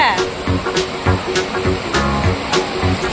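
Waterfall at Mauli fort running only lightly, a steady spray and trickle of water under intermittent nearby voices and chatter.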